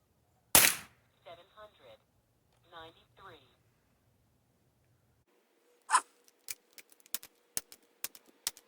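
A Winchester 1977XS air rifle fires a pellet with one sharp, loud crack at the start. A person then talks, and a run of quick mechanical clicks and snaps follows near the end.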